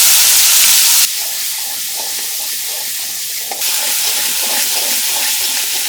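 Onion and garlic paste frying in hot oil, a loud continuous hiss and sizzle that drops briefly and then swells again.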